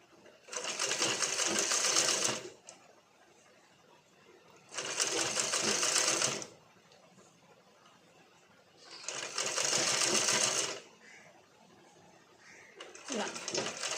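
Sewing machine stitching pleats into fabric in short bursts of fast, even whirring, each lasting about two seconds and separated by quiet pauses, heard close up, with faint pigeon-like cooing in the background.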